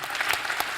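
Brief burst of audience applause at an elementary spelling bee, a soft wash of clapping lasting under a second.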